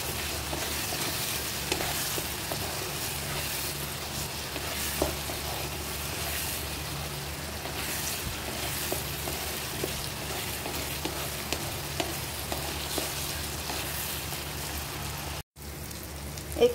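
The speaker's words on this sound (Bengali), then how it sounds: "অল্প অল্প জল দিয়ে এটাকে ভালো করে মিক্স করবে" Onion masala sizzles and fries in a pan with a little water while being stirred for an egg curry, a steady crackling hiss with faint scraping spoon strokes throughout.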